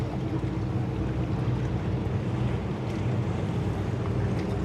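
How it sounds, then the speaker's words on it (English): A big dive boat, the Back Down 2, passes near Crab Island in Destin, Florida, its low engine drone steady under wind and lapping water, with no talking. "That's a big boat."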